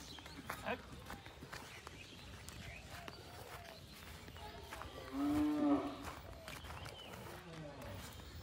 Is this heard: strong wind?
no